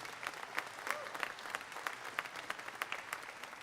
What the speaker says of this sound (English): let's give a round of applause for all our auctioneers who are going to be helping us today